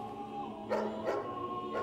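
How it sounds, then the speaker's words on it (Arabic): Dogs outside in a prison yard give a few short yips and barks, three distinct bursts over a faint steady hum, moderately close and without talk. "الكلاب اللي برا كمان كانوا جوعانين؟"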